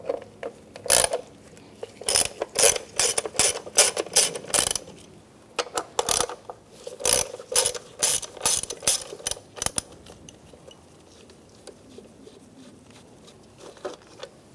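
A ratchet with a T30 socket clicks in quick bursts, removing bolts from the ignition coil cover of a 2007-2013 Mini Cooper, close up, then tapers to quieter handling noises.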